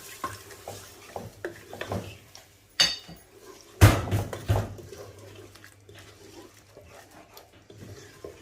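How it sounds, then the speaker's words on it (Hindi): A spoon scrapes and knocks against a pan while soya chunks and onion fry, giving soft intermittent scraping, a few sharp metallic clanks in the middle, and a low sizzle underneath. "और इसको भूनना है।"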